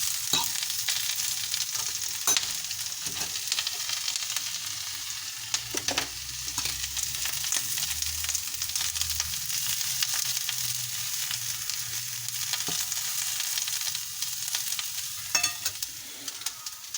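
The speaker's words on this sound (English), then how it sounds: "I'm going to stir that. I only use a fork at the moment." Food stirs in a frying pan with a fork under a steady close sizzle, punctuated by occasional sharp metallic scrapes and taps against the pan, with no one talking.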